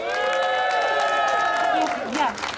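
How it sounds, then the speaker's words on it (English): A Women's Day event audience in Vancouver claps and cheers for a female performer after her set. Loud sustained whoops and shouts ride over scattered clapping, then taper off. "A big applause for Jennifer, please"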